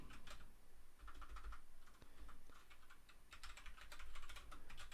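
Typing on a computer keyboard while writing database test code, with steady bursts of quick, light key clicks throughout, close but soft and quiet, no speech.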